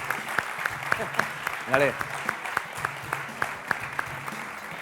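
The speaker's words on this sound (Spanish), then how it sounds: "Fuerte el aplauso para la criatura." Audience applause fills a conference stage event, a dense steady clapping of a seated crowd that holds at moderate loudness throughout, with a voice briefly speaking over it.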